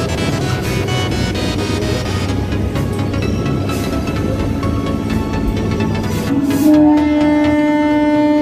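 A train rolls out of Khidirpur station in Kolkata toward Princep Ghat, making a steady rumble and clatter with squealing wheel tones. A sustained horn-like tone rises near the end, all loud and close from on board.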